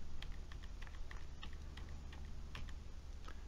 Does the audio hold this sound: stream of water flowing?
no